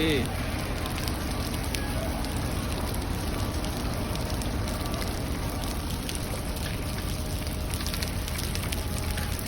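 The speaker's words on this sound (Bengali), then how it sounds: "অনেক জোরে বৃষ্টি চলে এসেছে" Heavy rain pours down in Hafar Al-Batin, Saudi Arabia, in a steady, dense hiss, loud and continuous throughout, with voices faintly present beneath it.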